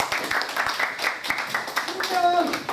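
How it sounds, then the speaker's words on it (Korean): Applause from an audience at a lecture gathering after a violinist is introduced, scattered claps rising and falling under ongoing talk. "박수!"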